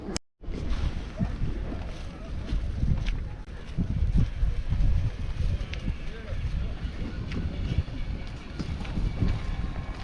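Motor boat running in a marina amid gusty wind, a low rumbling engine under heavy buffeting wind noise on the microphone, continuous and close, with an abrupt dropout at the start.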